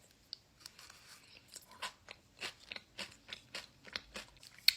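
Someone eats a spoonful of Nerdy Nuts pistachio spread close to the mic. Soft, rhythmic crunching and chewing bites repeat steadily, about ten over a few seconds, faint and intimate.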